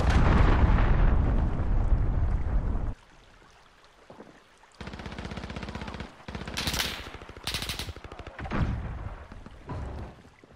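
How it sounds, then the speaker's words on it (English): Gunfire and a cruise missile strike in Call of Duty: Modern Warfare: a heavy roaring blast first, then a lull, followed by sustained bursts of rapid automatic fire with sharp cracks, loud and close. "Enemy cruise missile incoming"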